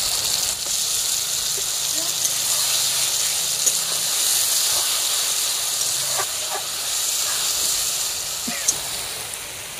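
Ground spice paste sizzles and hisses steadily as it goes into a hot pan for a Bengali rohu fish and tomato curry, with a few faint clinks and scrapes over the continuous frying noise.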